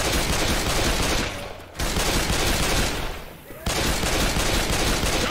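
Sustained, loud gunfire from the Left 4 Dead 2 video game fills the scene, with a dense rattle of shots that briefly drops out twice before resuming, and a voice faintly present beneath.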